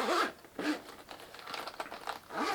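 A zipper is pulled closed on a compact monocular carrying case, a few close, quick rasping strokes with short pauses between them.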